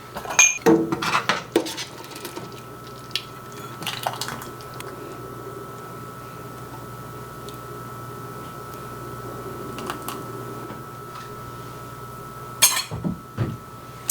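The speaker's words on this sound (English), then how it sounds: "I am going to get to ladling into my jars" Wild foraged jam being ladled into glass canning jars: sharp clinks of the ladle against glass at the start and again near the end, with soft wet drips and quiet handling noise in between.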